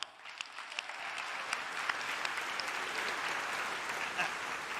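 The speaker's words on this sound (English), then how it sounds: "Let's give it a round of applause." Steady audience applause fills a large event hall at a Roblox developer conference, dense and sustained throughout with a few sharper claps standing out, no speech over it.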